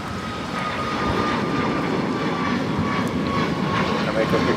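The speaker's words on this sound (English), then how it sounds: "Y ahora despegando de la pista 25 derecha, Aeroméxico 643 a la Ciudad de México en un MAX 8." An Aeroméxico Boeing 737 MAX 8 jet taking off from runway 25R at Los Angeles International Airport, a steady loud engine roar sustained throughout, with someone talking over it.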